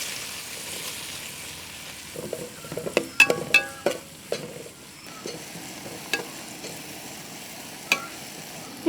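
Sliced onions frying in oil with ground cardamom, clove and cinnamon, soft sizzling with clattering stirring scrapes and taps of a spoon against the pan, irregular and close.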